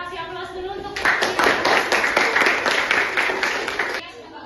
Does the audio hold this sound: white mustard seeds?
no